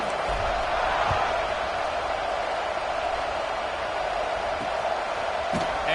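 A packed football stadium crowd rumbles and cheers before kickoff in a video game, a constant loud roar with a few faint thumps and whoops rising from the mass of voices.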